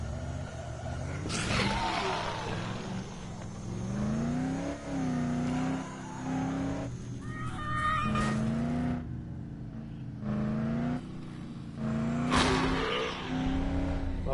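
Pickup truck driving in the Dead Island video game, its engine revving and shifting through gears with rising and falling pitch, tires squealing at moments, loud and close throughout.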